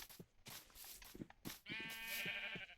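Sheep on a farm in a blocky survival game let out a wavering bleat near the end, after a few soft footstep-like thumps and brief rustles.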